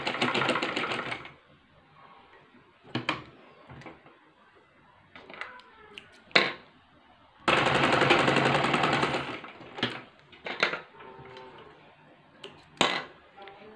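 A sewing machine runs in a few short bursts while stitching a two-panel salwar. One longer run is heard along with scattered clicks and handling knocks in the quieter gaps. No one speaks.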